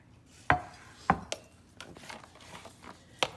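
Food being dumped from a heavy skillet into a bowl on a patio grill setup: a few sharp scraping clunks and thuds spaced out over a few seconds, close and moderately loud.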